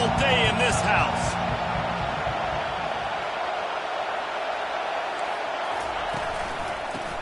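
A stadium crowd roars at a college football game, a dense, loud, steady wash of noise that fills the whole stretch, with brief bumps and sharper sounds near the start.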